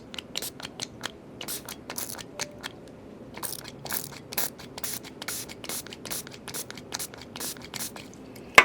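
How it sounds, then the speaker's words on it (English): Alcohol is spritzed repeatedly onto broken-up eyeshadow, a close run of short sharp spray bursts in quick irregular succession over faint background noise. "Then I'm going to saturate it with the alcohol."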